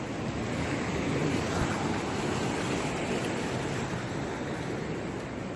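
Water rushes and splashes in a steady, broad wash close to the microphone, with wind buffeting mixed in and no voices.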